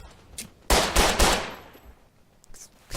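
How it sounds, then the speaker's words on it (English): Semi-automatic pistol fire in the trench shooter Verdun: a quick cluster of three or four sharp, loud shots in under a second, ringing out over faint background ambience, followed by a few softer distant pops. "If you want to see how fast I fire semi-automatic pistols"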